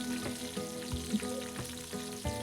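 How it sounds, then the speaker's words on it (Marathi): Finely chopped medium onions fry in oil for a biryani, giving a steady, fairly soft sizzle with a few louder stirring pops and scrapes. No voices are heard. "आपल्याला हा कांदा मस्त असा लालसर सोनेरी तर छान तेलावरती परतून घ्यायचा आहे"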